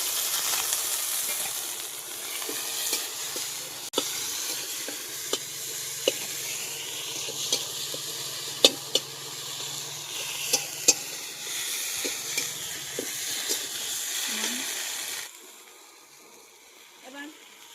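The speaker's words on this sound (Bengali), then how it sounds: "কুচিয়ে রাখা টমেটোগুলো দিয়ে দেব।" Chopped tomatoes frying in a pan of oil for a light rohu fish curry with drumsticks and potatoes, a steady close sizzle with repeated clicks of a spoon stirring, fading near the end.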